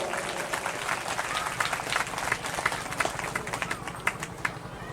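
Applause at a sant sammelan religious gathering during a Maha Vishnu yagya in Harsath, Samba, J&K, with fairly faint, steady clapping from a distant crowd that carries on without pause.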